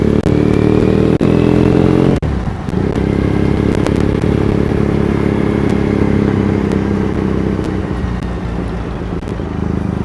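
Motorcycle riding through the streets of Ikebukuro, Tokyo, its engine droning steadily and loudly up close for the whole stretch, with a sharp dip partway through and road and traffic noise around it.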